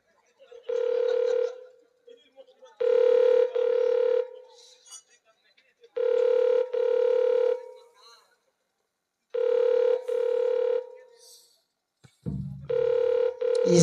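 A telephone call goes through as a series of loud, evenly spaced electronic tone bursts separated by short silences, with a low rumble near the end.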